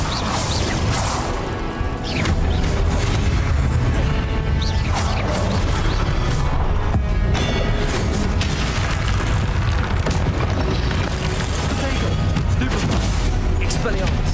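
Spell-casting blasts in Hogwarts Legacy crash and boom continuously, dense and loud throughout, with layered impacts and magical whooshes and no pause.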